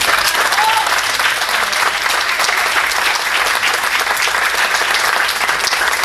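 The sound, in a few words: audience applause after a speech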